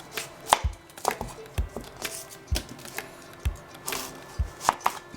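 An onion is sliced with a knife on a cutting board, giving a run of crisp, close chops at an irregular but steady pace, about a dozen distinct strikes with no talking.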